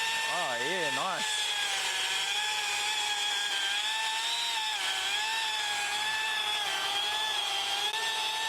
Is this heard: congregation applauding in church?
no